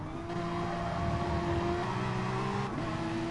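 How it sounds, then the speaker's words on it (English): A Porsche GT race car at Brands Hatch in a racing video game sounds a steady, high engine note that drops in pitch as it brakes, heard onboard at moderate level with faint tire noise. "Going to go on board here with the Porsche of Quinners, making their way through Sheen Curve. Now braking."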